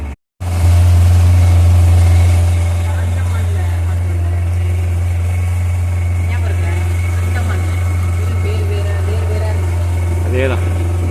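A boat engine drones steadily with a strong low hum during a backwater journey to Ponnumthuruthu island in Varkala, Kerala, loud and constant, with faint voices underneath.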